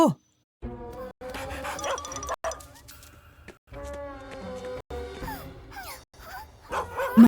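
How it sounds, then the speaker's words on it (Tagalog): A cartoon dog barks amid lively background music, with voices talking over much of it. "Isang aso na serbisyo!"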